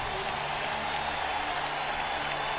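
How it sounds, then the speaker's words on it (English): Football stadium crowd at a Jacksonville Jaguars home game against the San Diego Chargers, a continuous wash of cheering and applause, loud and diffuse, with no talk in the foreground. "The Jaguars are getting this crowd pumped up"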